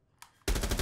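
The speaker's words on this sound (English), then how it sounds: "I can hear the gunfire." Video game gunfire from a 2v2 match: a brief burst of loud rapid shots erupts suddenly after a faint moment of quiet.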